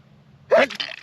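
A single sharp sneeze bursts out mid-clip, loud and close, followed by a short trailing breathy sound, with faint low background hum throughout.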